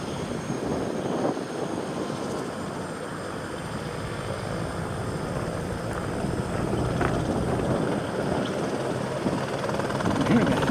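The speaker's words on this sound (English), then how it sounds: "Hearing a helicopter. Hear it? Seems to be coming from the right." A helicopter at an airport is heard as a steady broadband rotor and engine drone throughout, moderately distant and slowly growing louder, with a faint voice talking over it.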